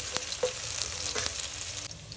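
Chopped garlic and red and green chillies fry in a pan for chilli garlic fried rice, giving a steady hiss with a few brief stirring clicks.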